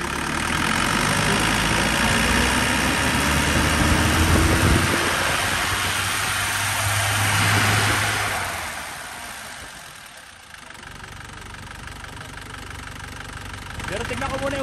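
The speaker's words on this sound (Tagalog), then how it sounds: "papausukin ko muna itong sasakyan na to, itong crossfit na to" A Ford-badged crossover's car engine runs hard to make it smoke, a loud, continuous rough roar that eases and dips before settling, with shouting voices over it.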